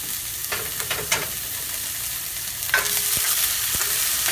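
Mushrooms and seared pieces sizzling in a hot pan for a filet mignon dish, a steady frying hiss with a few stirring clatters and louder sizzling toward the end.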